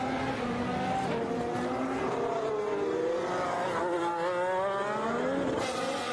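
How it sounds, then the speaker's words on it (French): A Red Bull Honda Formula 1 car laps the Spa circuit during a cold practice session, its high-revving engine screaming steadily with rising and falling pitch as it passes, loud and continuous throughout. "On va voir ce que donne Verstappen et le Honda"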